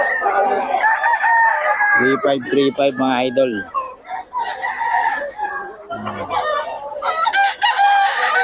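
Several roosters crow loudly one after another amid clucking fowl at a market in Bocaue, while someone talks over the noisy flock.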